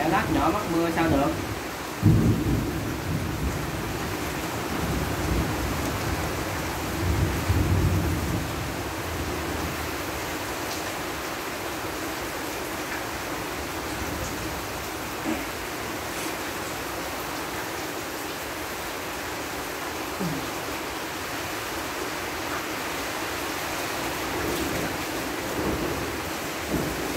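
Heavy rain with a thunderstorm and gusting wind over worked farmland in Tân Phước, a steady broadband roar of downpour with low rumbling thunder swells, fairly loud and continuous throughout.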